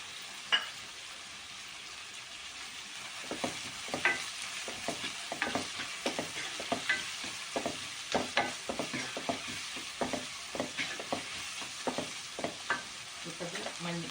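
Onions sautéing with salt sizzle steadily in a pan, while a spatula scrapes and stirs in a quick, irregular rhythm of close, sharp strokes.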